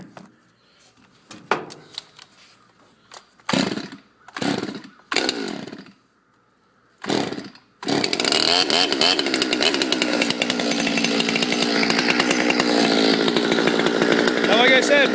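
A Stihl MS200T chainsaw with the muffler screen removed and the muffler bored out, pulled several times before catching, then running loud and steady at close range, its rough raspy drone continuing to the end.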